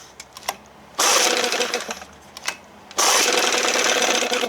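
A 1968 Evinrude Fisherman 6 hp outboard motor, not yet warmed up, runs in two loud, steady bursts, each about two seconds long, with quieter idling and faint mechanical knocks in between.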